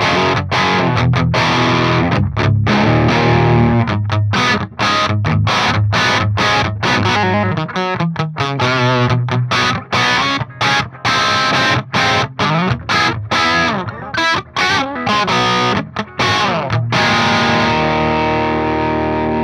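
High-gain electric guitar runs through the STL Tones Tonehub PVY Vector for metal: loud, dense distorted riffing with tight chugs and sharp stops, played alone and up close.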